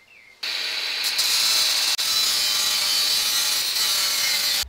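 Screws are cut shorter while building a drawer locking system for a van conversion, a loud, harsh, steady cutting and grinding noise lasting several seconds with one brief break.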